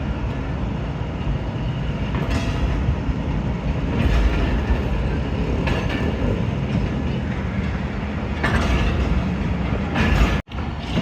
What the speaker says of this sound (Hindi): हाफजाबाद रेलवे स्टेशन पे अप्रोच बना रही है 48 डाउन रहमान बाबा एक्सप्रेस